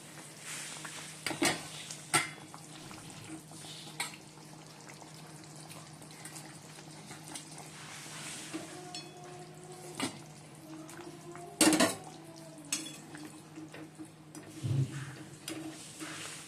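Fish pieces going into a pot of simmering curry with fish heads and boiled potatoes: a low, steady bubbling broken by a few brief splashes and clanks of utensils against the pot, with no talk.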